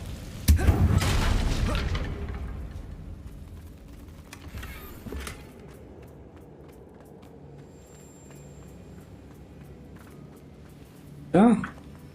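The Confringo blasting spell in Hogwarts Legacy bursts into a sudden loud explosion that rumbles and fades over a couple of seconds, followed by a smaller thump and quiet ambience, with a brief voice near the end.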